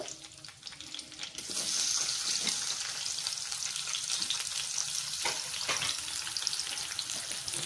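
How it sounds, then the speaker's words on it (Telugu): Chopped onion and green chili land in hot oil with tempering spices and burst into loud sizzling, a sudden hiss that settles into steady frying with a few stirring taps, close up, no voices. "ముందుగా కట్ చేసుకున్న ఉల్లిపాయ పచ్చిమిర్చి ఇవి కూడా వేసేసుకోవాలి"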